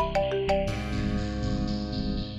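Mobile phone ringtone playing a short melodic pattern, bright chiming notes over a held tone, clear and close with no one speaking.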